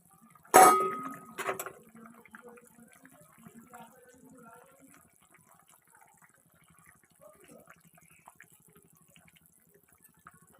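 Fish is tipped into a cooking pan with one sharp metallic clang and a brief clatter, followed by faint drips and soft kitchen noises.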